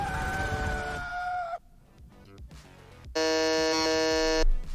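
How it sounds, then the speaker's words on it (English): Game show buzzers sounding during a face-swap guessing game: a loud, steady electronic buzz holds for about a second and a half, then after a short gap a second, brighter buzz sounds for over a second. "All right, we got some buzzes."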